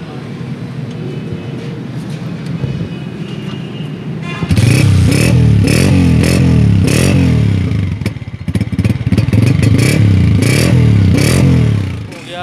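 Honda 125 motorcycle idles quietly, then starts up loud and close, revving repeatedly in rising and falling bursts with a rough, rattly engine note; no talk over it.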